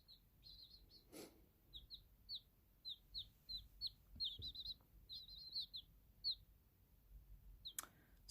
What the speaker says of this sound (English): So these are our chickens, our onagadori, our silkie,